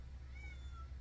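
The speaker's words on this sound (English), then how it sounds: "Y'all hear my cat?" A cat gives a single soft, rising-and-falling meow, faint and a little distant over a low indoor hum, with no talking.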